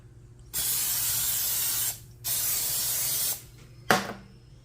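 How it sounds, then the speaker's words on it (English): Two long hissing bursts of aerosol cooking spray onto a small waffle maker, each over a second, followed by a short clatter, close and loud with no talking. "I'm going to spray my little waffle maker."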